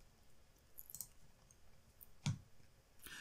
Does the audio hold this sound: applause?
no